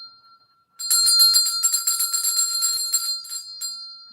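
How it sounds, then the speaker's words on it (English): A bell rung repeatedly in a quick, rapid run of strikes that ring out loud and close for a few seconds, bright metallic tones sustaining between hits before stopping. "I'm going to ring this bell."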